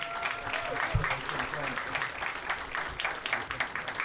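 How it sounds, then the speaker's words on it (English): A crowd at a scholarship awards ceremony applauds steadily for about four seconds, many hands clapping in a dense, even patter with faint voices mixed underneath. "let's all give them another round of applause"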